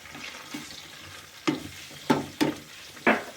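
Mustard seeds, coriander seeds and green chillies fry in a pan for Andhra-style ridge gourd yogurt chutney, quiet sizzling broken by several sharp stirring scrapes and pops, close by.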